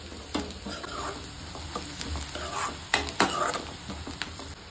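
Onions browning in a pan for a home-style Indian curry, a continuous close sizzle broken by clattering stirs and scrapes of the spoon.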